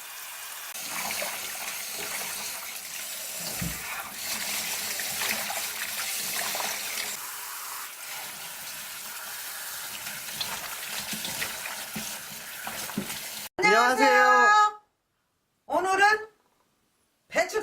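Water runs steadily from a tap as napa cabbage is washed for fresh kimchi, a continuous splashing wash that ends with a few short bursts of voice.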